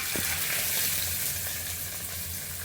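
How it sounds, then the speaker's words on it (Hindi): A hot tadka of oil, cumin and round red chillies for dhaba-style dal mash fry sizzles loudly and steadily, a dense close crackle with no talking over it. "स्पेशल तड़का बना के दाल माश फ्राई में डाल देते हैं।"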